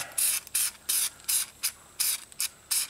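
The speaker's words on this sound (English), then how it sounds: "this part I want to spray with fluid film" Short hissing bursts from an aerosol can of Fluid Film rust-prevention spray on a Suzuki XL7, about eight quick squirts in an uneven rhythm, close and fairly quiet.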